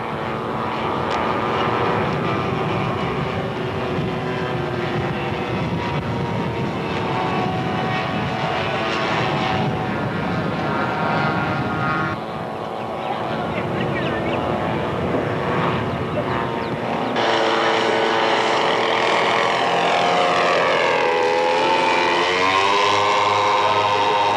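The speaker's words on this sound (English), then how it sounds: "Wheels down now for a slow pass using the undercarriage to create extra drag to reduce airspeed." Slow, low pass of a WWII medium bomber with its wheels down, the steady droning roar of its piston engines and propellers filling the air loudly throughout and swelling louder toward the end.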